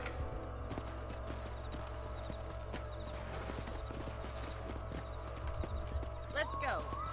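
A horse gallops in the video game Red Dead Redemption, rhythmic hoof clip-clops running steadily under game music and spoken dialogue, with a whinny near the end.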